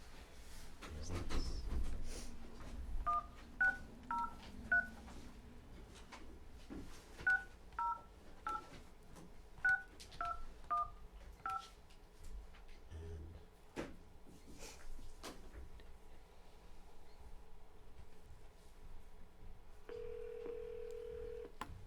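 A desk telephone is dialed during a budget committee meeting, with two clusters of short DTMF keypad beeps in quick runs, handling clatter at the start and a steady tone near the end, in a quiet room.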